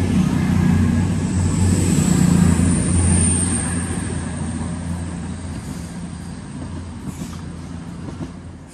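An Avanti West Coast Class 390 train runs through Stoke-on-Trent station with a loud, sustained roar and rumble that peaks early, then fades gradually, with faint wheel clatter on the rails.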